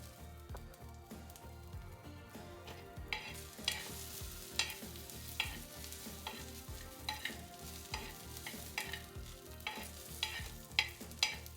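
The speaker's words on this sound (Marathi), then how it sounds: "हे मी थोडे जिरे टाकून घेते ह्याच्यावरती." Cumin seeds sizzle in a pan while being stirred for a Maharashtrian thecha, a faint steady frying hiss punctuated by regular scraping strokes of the spoon.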